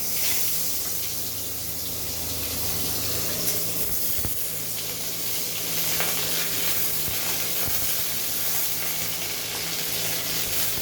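Dried red chillies broken in two and crushed garlic fry in hot oil, a continuous bright sizzle and crackle with a low steady hum underneath and a few sharp clicks of spattering along the way.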